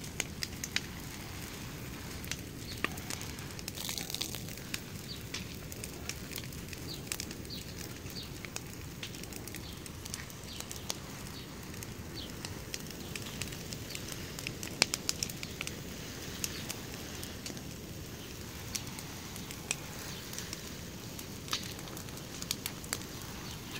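A fire burning near cherry trees, continuous dense crackling and popping with a steady roar, close and sustained throughout, no voices.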